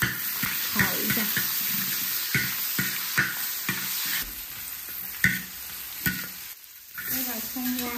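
Salted pork stir-fried in a wok for a rural home-style dish, with a steady sizzle and repeated scrapes and taps of the spatula that run close and fairly loud, pausing briefly near the end.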